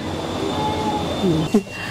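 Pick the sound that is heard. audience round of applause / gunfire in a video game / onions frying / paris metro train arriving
paris metro train arriving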